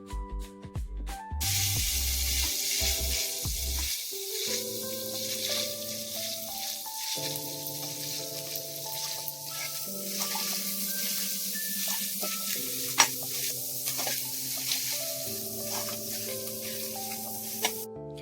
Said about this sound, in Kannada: 2 ಸ್ಪೂನ್ಸ್ ಅಷ್ಟು ಎಣ್ಣೆ ಹಾಕೊಂಡು ಹಚ್ಚಿಟ್ಕೊಂಡಿರೋ ಮೆಣಸಿನಕಾಯಿ, ಕರ್ಬೇವಿನ ಸೊಪ್ಪನ್ನ ಹಾಕಿ ಚೆನ್ನಾಗಿ ಫ್ರೈ ಮಾಡ್ಕೋಬೇಕು.